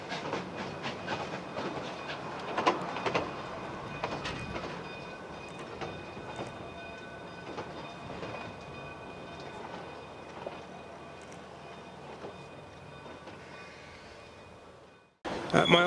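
Cumbres & Toltec narrow-gauge steam train rolling on rails near Sublet, a steady rumbling clatter with hiss and rhythmic wheel clicks, close and continuous, and a louder burst of noise near the end.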